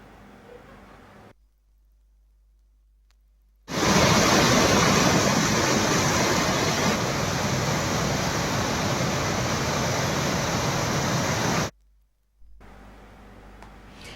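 Water rushes from a dam's thirty open gates in a heavy flood release: a loud, steady roar of churning water that starts abruptly, holds for about eight seconds, then cuts off, with quiet ambience on either side.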